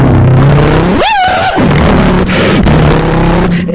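A comedian vocally imitates a car starting and driving off, a loud rising engine-like whoosh followed by a sustained droning hum, delivered alone with no other talk.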